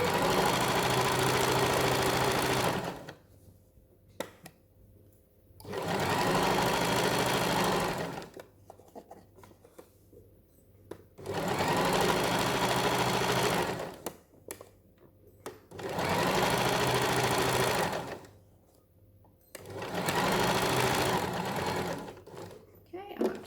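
A sewing machine runs in four or five sustained bursts stitching the sides of a llama-themed cushion, each run steady and loud, separated by short pauses where a voice speaks briefly.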